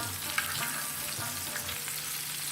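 Peshawari chapli kabab fries in cooking oil, a soft, even sizzle with faint pops and spatters throughout, fairly quiet and close.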